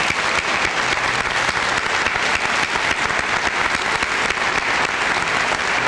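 Audience at a high school senior assembly applauding students, dense continuous clapping filling the room at full volume with no pauses.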